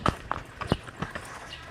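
A horse walking on a ride near a nature camp in Laguna, its hooves giving a handful of close, uneven clip-clops spaced a fraction of a second apart, with faint background noise.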